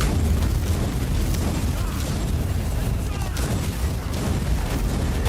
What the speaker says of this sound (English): The explosion.